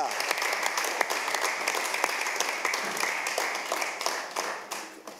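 An audience at a Christian gospel singing event claps steadily in dense, continuous applause for a singer and his group, holding at an even level before tapering off near the end.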